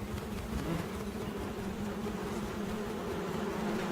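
A steady, close buzz of a female moth's rapidly beating wings inside a beehive drones on continuously, with a low hum under a dense background hiss.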